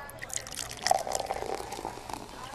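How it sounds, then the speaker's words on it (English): Beer pours from a self-service pub tap in a brief, gurgling stream of liquid over background chatter and bar noise. "now you can even pour your own beer at the pub"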